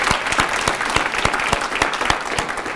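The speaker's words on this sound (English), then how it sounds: "the entire group, round of applause" A room full of people giving a round of applause at a recognition ceremony for a team, dense steady clapping with a few sharper claps standing out, loud and sustained without talk.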